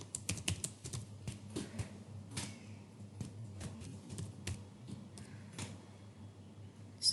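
Keys clatter on a computer keyboard as a new root password is entered, close irregular taps in quick bursts with softer gaps, no voice.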